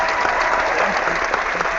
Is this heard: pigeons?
no